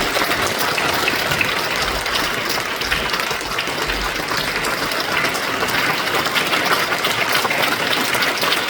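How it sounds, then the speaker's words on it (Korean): A church congregation applauding together at an Easter union worship service in Seongnam, a steady, dense wash of clapping from a large crowd that holds evenly throughout without voices. "우리 작은 교회로 해서 박수 한번 해주시기 바랍니다."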